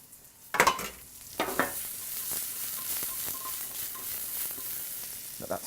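Steady sizzling of asparagus in a hot pan, close by, with a few scraping stirs and clatters near the start and a lighter one at the end.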